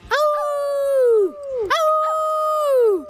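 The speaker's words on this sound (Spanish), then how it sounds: "Hace una cosa rara de aullidos." A dog howls twice in long rising-then-falling tonal wails, each about a second and a half, fairly loud and close with no talk over it.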